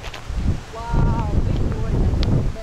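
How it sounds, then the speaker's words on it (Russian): Gusty autumn wind in Crimea rushes past the microphone, rising and swelling in strong bursts while people talk nearby. "Такой ветерок, да? Ничего такой, ветрище."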